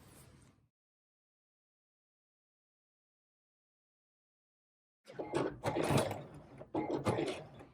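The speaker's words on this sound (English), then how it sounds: "I'm just back stitching over that spot since that's where it skipped a few stitches earlier." Sewing machine back stitching a seam on men's slacks being taken in at the legs: a short burst of motor whir, a long silence, then a steady close mechanical run for the last few seconds.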